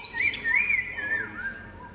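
Birds chirp among trees in Cyberpunk 2077, giving a few clear, whistled tweets and warbling calls that rise and fall over soft ambient background.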